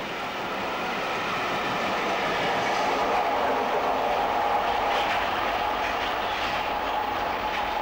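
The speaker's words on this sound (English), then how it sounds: "A train of Clacton units speeds non-stop through Stratford as it passes an outer suburban train" A train of Clacton electric units speeds non-stop through Stratford past an outer suburban train, a steady loud rushing roar with a faint whine throughout.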